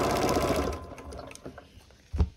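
A sewing machine stitches rapidly while stippling a quilted table runner, its fast mechanical chatter slowing and fading out, followed by a few soft clicks and a thump at the end.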